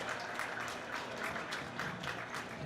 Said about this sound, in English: Let's give a big round of applause for all of our young folks out here in the Grand Drive.